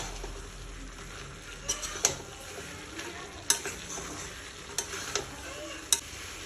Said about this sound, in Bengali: দেওয়ার পরে এটাকে ভালো করে আমি আরও কষাবো।